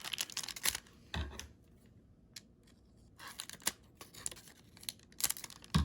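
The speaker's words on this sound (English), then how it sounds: "We cut this too with the scissors." Scissors snip through the foil wrapper of a 2011 Universal Treasures trading card pack, with several crisp cuts and crinkling bursts separated by quiet pauses, close and fairly faint.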